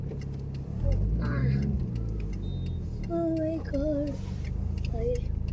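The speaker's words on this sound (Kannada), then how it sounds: "ಎದುರೊಂದು ಕಾರ್ ಬಂತು" A car approaches from the front on the road, its engine noise swelling moderately close while people talk over it.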